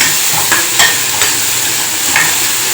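Vegetables frying in a pan for a corn soup, a loud steady sizzle up close, with a few soft stirring scrapes of a spoon cutting through at irregular moments.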